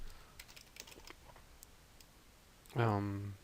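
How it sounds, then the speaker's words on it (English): Faint, quick clicks and taps from a computer mouse and keyboard sound in a quiet room, scattered and light, followed by a close spoken voice. "We're just going to keep on clicking plus and adding the appropriate"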